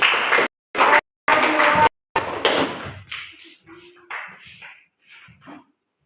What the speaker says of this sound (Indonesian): tepuk tangan dulu untuk Mikael